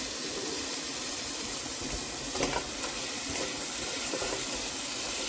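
Water pours steadily into a pot of soaked rice being cooked with black chickpeas. The close, continuous rushing splash holds at an even level from start to finish.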